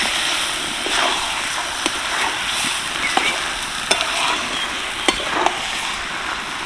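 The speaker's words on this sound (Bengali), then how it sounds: "এবার আমি দিয়ে দিচ্ছি ভেজে রাখা আলু আর ভেজে রাখা লাউ একটুখানি ভালো করে নেড়ে চড়ে নেবো" Fried bottle gourd and potatoes sizzling in masala in a pan, stirred with a spatula, making a steady close sizzle broken by regular scraping strokes and a few sharper knocks.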